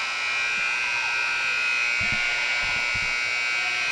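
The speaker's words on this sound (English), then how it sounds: "a stuck buzzer back for the Sachems" A stuck electronic buzzer drones continuously at a girls high school basketball game, a steady loud tone held for the whole stretch with faint crowd noise and brief thumps beneath it.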